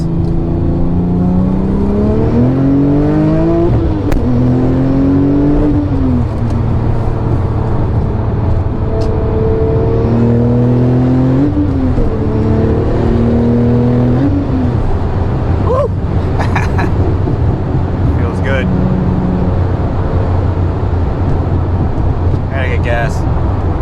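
Porsche 997 Turbo with torn CV boots accelerating hard on the road, its engine note climbing through several rising sweeps between gear changes, loud and close from inside the car with wind noise throughout.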